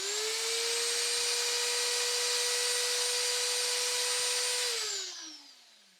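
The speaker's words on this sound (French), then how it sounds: "quand on se sert d'une perceuse" An electric drill runs at a steady high-pitched whine for about five seconds, then winds down as it stops, close and loud in a workshop.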